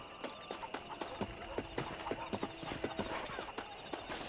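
Horse hooves clip-clop in a steady, even rhythm in the Red Dead Redemption video game, a dry clattering gait repeating close by with faint ambient noise underneath.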